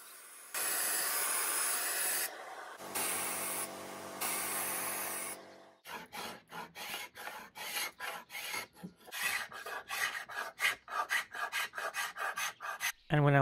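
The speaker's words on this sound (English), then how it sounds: "the easiest way to remove the paint on the curved surfaces was to use my sandblaster" A sandblaster stripping old paint from the curved surfaces of a wooden piece, heard as long continuous hissing blasts, then a series of rapid rhythmic rasping bursts, close and fairly loud with no talk.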